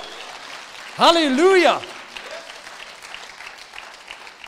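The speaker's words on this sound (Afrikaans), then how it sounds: "Kom aan, klap vir die Here." Church congregation clapping for the Lord, a dense, steady patter of applause that runs throughout, briefly overlaid by a loud shouted exclamation from a preacher.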